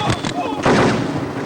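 A gunshot in a dubbed South Indian action movie scene, one sharp loud blast with a short rumbling tail, close and heavy, preceded by brief vocal noise.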